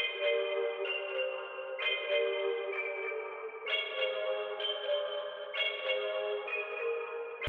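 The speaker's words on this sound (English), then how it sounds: "And then I added a bell from the same multi-kit." Bell sample from a multi-kit in FL Studio, playing sustained chord-like tones that restart at a steady pace, roughly every two seconds, with bright overtones ringing alone and no voices.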